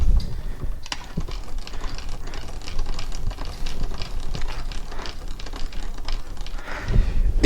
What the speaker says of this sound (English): then I will start tightening the base of the boring bar